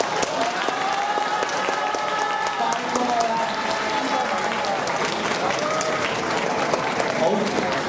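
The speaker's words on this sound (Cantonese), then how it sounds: "大家覺得5A班係最好咧，就俾得多啲掌聲佢哋啦。" A school audience at a senior-form drama competition bursts into sustained applause and cheering for class 5A, dense clapping and shouts filling the hall for several seconds.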